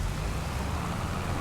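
Torrential rain in Farming Simulator 25, a thick unbroken roar of pouring water at constant loudness throughout, heard alone without any talking.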